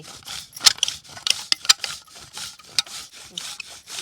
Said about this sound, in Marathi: आता आपण गुळ किसून घेऊया आता हा काळा गुळ आहे आता किसते